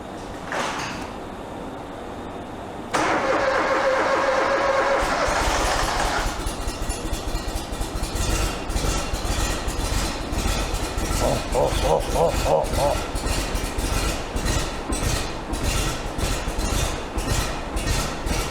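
Kohler gas engine on a Scag mower cranks over briefly, then catches and settles into a steady, loud idle that runs close by for the rest of the clip.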